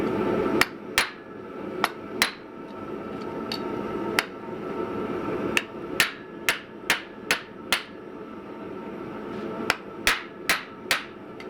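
A hammer strikes a mini London pattern anvil, giving sharp ringing metallic blows at irregular intervals, sometimes in quick pairs, over a steady background hum.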